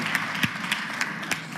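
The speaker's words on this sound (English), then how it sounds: "Let's have another round of applause for our panelists tonight" Audience applause for a panel at a DEA Luminaries Night event, a steady wash of clapping from a crowd with a few sharper individual claps standing out, moderately loud and continuous with no talk over it.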